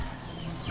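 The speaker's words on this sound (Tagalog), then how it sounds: "Dami mo palang manok dito ha" Chickens in a yard give short, soft clucking sounds, close by and brief, under a low background hum.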